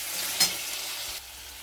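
Salted, turmeric-dusted potatoes fry in a pan with poppy seeds and sesame, giving a soft steady sizzle with one brief stirring clatter near the start before the frying quietens.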